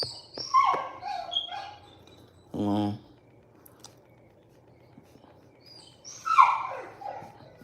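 A dog whimpers and yips in short, high, wavering bursts near the start and again near the end, with a brief low rumble between and faint background noise.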